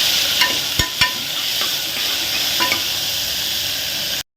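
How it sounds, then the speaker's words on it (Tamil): Onion and tomato for chicken kurma stir-fry in a pan, a steady close sizzle carrying a few sharp scrapes and knocks of the spoon, alone with no talk before it cuts off. "ஒரு தக்காளி போட்டு நல்லா மிக்ஸ் பண்ணி விடணும்"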